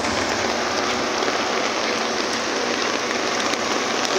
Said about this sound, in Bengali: প্রচুর বৃষ্টি হচ্ছে, প্রচুর